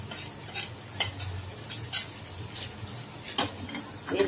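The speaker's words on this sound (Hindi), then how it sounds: "अच्छे से भून लेना, इसको हाई फ्लेम में 5 मिनट अच्छे से भून लेना" Bone-in mutton with chilli, turmeric and salt sears over a high flame, a soft sizzle punctuated by scattered spatula scrapes and taps against the pan, fairly quiet and close.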